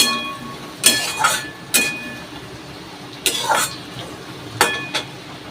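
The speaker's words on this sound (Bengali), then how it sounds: "ততক্ষণ এই বেসিংয়ের বাসন এই দুটো মেজে ফেলি" Two metal utensils are scrubbed at a kitchen sink basin, making intermittent sharp clanks and scraping knocks in uneven bursts at close range, with a faint steady background and no speech.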